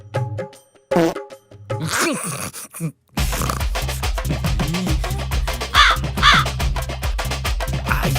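Loud, harsh crow caws come in several bursts, first spaced apart, then a busier stretch with repeated calls over a rough, noisy background.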